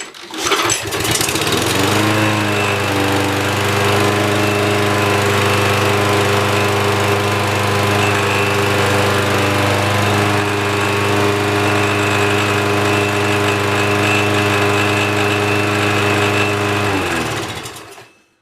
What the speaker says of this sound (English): let's do the first startup. How many pulls? I'll guess 2. This mower's always started really nice and quick.